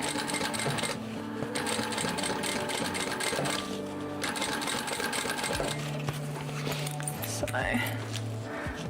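A sewing machine stitches a floral dino-print water bottle bag in steady whirring runs that shift pitch as the speed changes, a mechanical hum that goes on nonstop under continuous conversation between people.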